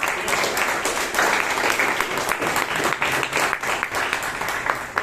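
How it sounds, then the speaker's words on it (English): Toastmasters club meeting audience gives a big round of applause: dense, loud clapping from many hands close by, sustained with rhythmic individual claps standing out, no talking over it. "let's give a big round of applause"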